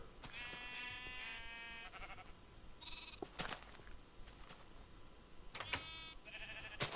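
Sheep in the video game Minecraft bleat repeatedly, several wavering calls in quick bursts with short pauses between them, heard clearly and alone against a faint background.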